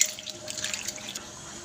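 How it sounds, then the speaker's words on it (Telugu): Dried fish being rinsed in water gives sloshing splashes and trickling as water is poured away, with a few soft drips, close and moderately loud. "వీటిని నీళ్ళు పారబోసుకుంటూ నీట్గా కడగాలి"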